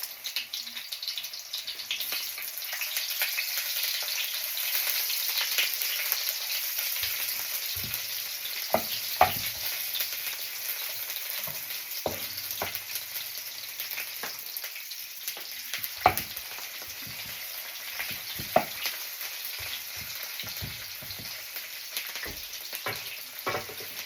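Onion fries in a pan with a steady, moderate sizzle running throughout, broken by scattered clicks and scrapes of stirring.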